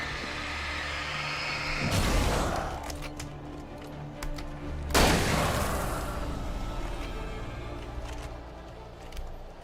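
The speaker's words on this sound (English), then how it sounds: "Wasted a shotgun shell there" Two heavy shotgun blasts in the video game Alan Wake, each a loud, booming crack with a long rumbling tail, spaced a few seconds apart over a low background hum.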